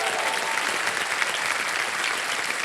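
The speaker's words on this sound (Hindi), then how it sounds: "तालियां बज जाएं इनके लिए।" Studio audience applause on a television quiz show set, a dense, even roar of many hands clapping, loud and continuous throughout with no speech over it.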